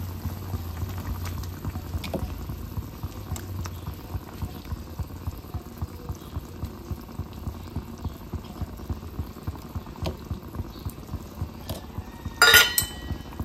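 Curry broth for a kolbi (dried shrimp) kalvan bubbles at a strong boil in a pot, a steady low burbling that carries on under faint kitchen clinks, ending with a brief sharp clatter near the end.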